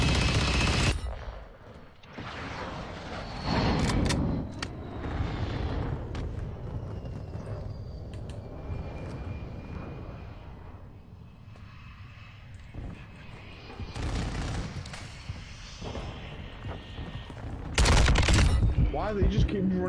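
Gunfire from a gun in Call of Duty rattles in bursts against a busy game soundscape, with loud volleys near the start, middle and end, and a voice talks throughout.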